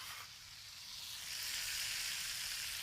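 About six slices of bacon frying in a skillet, sizzling steadily with a bright, crackling hiss that swells slightly over the span, fairly quiet and with no voices.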